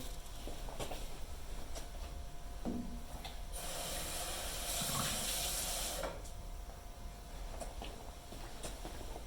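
Water runs steadily from a tap for a couple of seconds, rinsing isopentyl acetate during a lab synthesis, with faint clinks and handling noises before and after in a quiet room.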